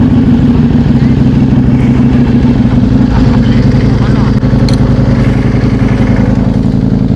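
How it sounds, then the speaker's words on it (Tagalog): A motorcycle engine puttering loudly and steadily with a throbbing pulse as it draws near, with voices speaking over the constant engine noise. "Hoy, may parating, Ted. May parating na motor."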